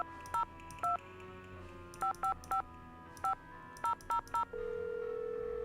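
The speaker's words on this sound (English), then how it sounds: "if you phone call the Library of Congress before seeing the phone number" A telephone number is keyed in within a Nancy Drew video game, a quick series of DTMF keypad tones in irregular clusters over a steady low hum, ending in a sustained tone.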